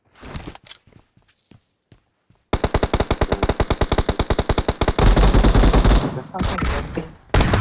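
Automatic gunfire in the battle royale game PUBG: a few scattered shots at first, then a long, loud, rapid burst of evenly spaced rounds and heavier fire near the end, with faint team chatter around it.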